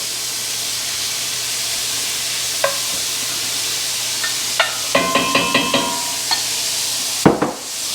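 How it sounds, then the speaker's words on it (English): Loud, continuous sizzling of sausage frying in a cast iron skillet, with a few scraping clinks of a utensil stirring partway through. "listen to that sizzle"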